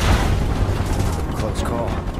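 Soldiers firing guns in the video game Final Fantasy VII Remake, a loud dense burst of booming shots mixed with shouted game dialogue.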